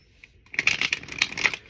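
A deck of tarot cards is shuffled close by in rapid riffling bursts, starting after a short quiet lead-in and continuing as a brisk papery flutter with no talking.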